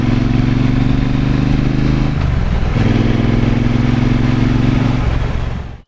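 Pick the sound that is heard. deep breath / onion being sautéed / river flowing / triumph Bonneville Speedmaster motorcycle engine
triumph Bonneville Speedmaster motorcycle engine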